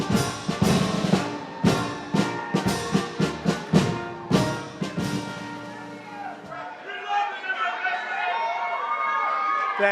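Large crowd at a White House reception cheering, whooping and applauding in loud repeated bursts, then settling into a sustained roar of mixed voices and chatter.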